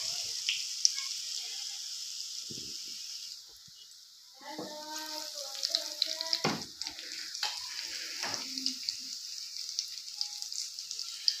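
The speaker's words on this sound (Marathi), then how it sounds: "अजून बाकीचे राहिलेले मी आता तळून घेते" Vada pav vadas deep-frying in hot oil at home, a steady high sizzle throughout with a brief dip, while someone talks over it.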